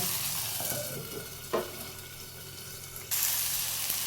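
Chopped tomatoes fry and sizzle in a pan for an old-style okra pulusu and are stirred with a spoon. A steady hiss carries a distinct scrape partway through, then the sizzle surges louder near the end.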